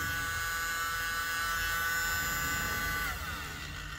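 A tiny handheld electric blower used for alcohol ink runs steadily on its own, a close, continuous high-pitched motor whir with a faint buzz that stays even for the whole stretch, easing slightly near the end.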